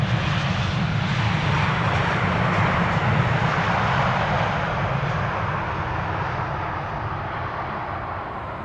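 A Boeing 747 arriving at Amsterdam Schiphol Airport roars loudly and steadily, a broad sustained jet engine rumble that slowly fades in the final seconds.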